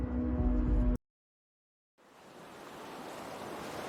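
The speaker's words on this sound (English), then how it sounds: "here you are in the middle of the ocean" Ocean waves in the middle of the sea under thick fog wash in as a soft, rising rush of surf, swelling gradually after a brief silence that follows an unrelated tonal sound.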